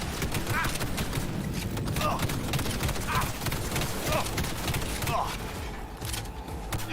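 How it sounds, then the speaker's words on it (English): Wall-mounted turrets fire on a building in a video game, a steady stream of rapid shots and clattering impacts over a dense battle din, with voices calling out underneath. "We're under fire."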